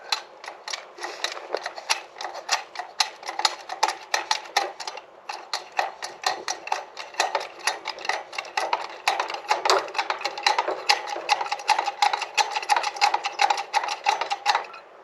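A cheap hydraulic Towallmark toy truck crane lifts a weight with a rapid, thin mechanical clicking and whirring that runs steadily throughout, nearby and fairly quiet, with no talking.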